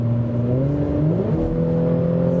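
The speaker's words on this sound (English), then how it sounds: "Every little touch on the throttle you can hear" An Audi S5 Coupé engine revs under light throttle, a steady, close, droning tone whose pitch rises and falls with each touch of the pedal.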